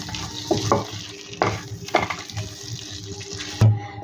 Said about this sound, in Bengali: এর মধ্যে এবার আমি দিয়ে দেব হাফ চামচ আমচুর পাউডার। ভালো করে নেড়ে ছেড়ে নেব।